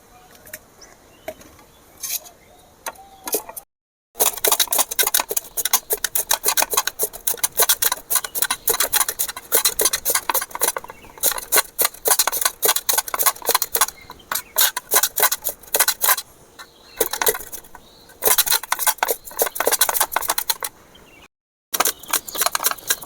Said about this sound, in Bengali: আমি একটা গ্রেটার নিয়েছি, গ্রেটারের সাহায্যে আমি গ্রেট করে নেব।